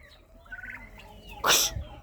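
A turkey gobbles once in a rural yard, a loud, short burst standing out over quiet background noise, with faint bird calls before it.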